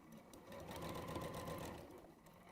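A sewing machine stitches a quilt in one steady, continuous whirring run at close range, with no talk over it.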